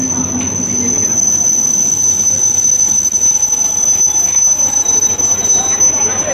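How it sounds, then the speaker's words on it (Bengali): A train pulling in at Bishnupur station, with a steady loud rumble of wheels on rails and a thin high squeal running throughout, a continuous wash of station noise. "আমাদের ট্রেন এসে দাঁড়ালো বিষ্ণুপুর স্টেশনে।"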